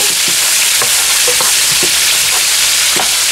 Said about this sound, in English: throw that in the pan with the vegetables that have been sauteing. Go ahead and give that a stir.